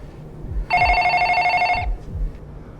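A telephone rings once in a pizza shop with a single bright electronic trill lasting about a second, set against a quiet low background with a few soft thumps.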